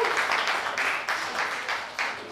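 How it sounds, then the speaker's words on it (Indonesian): An audience claps at the soft opening of a cafe and water softening outlet in Bandung, a dense burst of steady applause filling the short stretch. "Mari kita sambut dengan tepuk tangan semua"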